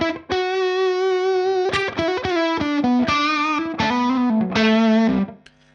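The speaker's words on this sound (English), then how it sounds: "there's a saturation, there's extra harmonics going on at the top end, and it just sounds huge" Electric guitar through an overdrive pedal with saturation, a loud close melodic line of sustained saturated notes rich in upper harmonics, ending with a short fade.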